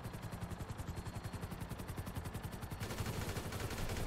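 Rapid automatic gunfire in GTA V, a dense rhythmic burst of shots fired continuously and loudly for several seconds with no pauses, with heavy clatter throughout.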